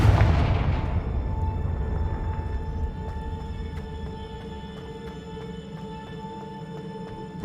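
A Confringo fire spell detonates in a Hogwarts video game: a heavy booming blast at the start that rolls off into a long, fading rumble with a faint lingering ring.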